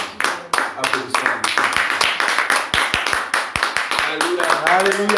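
A church congregation claps together in a lively, steady rhythm during a worship service. The sharp, close hand claps repeat over several seconds alongside voices.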